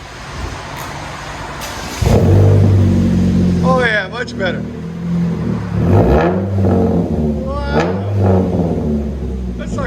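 A 2006 Pontiac Solstice with a naturally aspirated 2.4L engine and a muffler-delete exhaust with a resonator, heard up close as a loud, rough rev and a steady rumble, with people talking over it.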